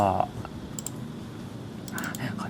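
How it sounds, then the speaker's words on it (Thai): A few sharp clicks from a computer mouse on an Android app setup, heard faintly beneath someone speaking. "ผมใช้เมาส์คลิกแทน"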